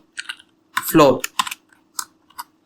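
Code being typed on a computer keyboard: short irregular clusters of close, crisp key clicks, with a voice speaking briefly in the middle.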